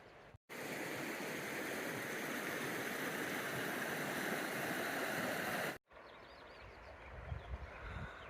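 A river rushes steadily in a loud, continuous wash, cut briefly at each end, with quieter gurgling flow after the break.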